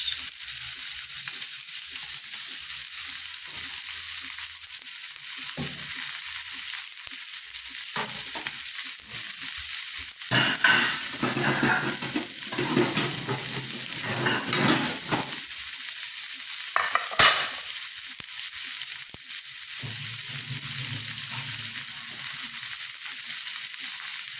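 Pork cubes fry in a pan while being stirred, producing a continuous close sizzle with bursts of scraping and clatter in the middle, and no talking over it.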